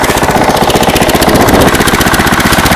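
A small engine with an oil leak idles loudly and close by, a steady rapid chugging rhythm that holds without pause.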